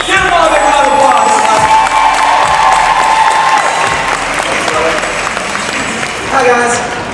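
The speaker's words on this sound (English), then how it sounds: "Give them all a big round of applause." A talk show audience at Disney's Hollywood Studios breaks into sustained, loud applause with cheering and whoops, steady throughout and swelling slightly near the end, with voices mixed in.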